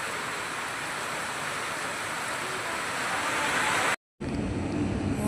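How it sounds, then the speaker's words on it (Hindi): Heavy rain pours at a roadside dhaba: a dense, even hiss of rainfall throughout, cut off for a moment near the end before returning at full strength. "इतनी भयंकर बारिश हो रही है"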